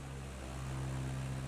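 Airplane engine during takeoff in a flight simulator game, a steady droning propeller hum that holds level and slightly swells, heard alone without talk.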